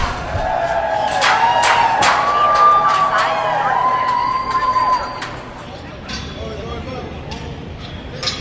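A crowd outside the Kennedy Center screams and cheers as a Trump sign is taken down, with loud shouts and whistles early, then the noise fades to a more distant murmur.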